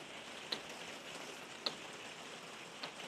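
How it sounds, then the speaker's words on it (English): Steady rain falling outside, a soft even hiss with a few louder drips landing at irregular intervals. "It's still raining"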